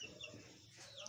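A Kenyan indigenous chicken (kuku kienyeji) gives a brief, faint burst of clucking, close by and without talk over it.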